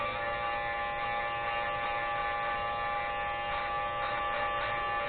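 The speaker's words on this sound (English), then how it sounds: "we then go to the primary edge and we just grind until it stops grinding" An EMG-12 end mill sharpener grinds the primary edge of an end mill, giving a steady, close electric whine and buzz that holds constant for the whole stretch.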